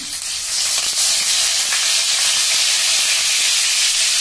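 Cumin seeds and curry leaves sizzle in hot oil in a kadai, with asafoetida just added, giving a steady loud hiss and crackle that runs unbroken throughout, close and alone.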